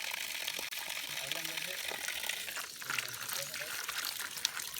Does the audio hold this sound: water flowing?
yes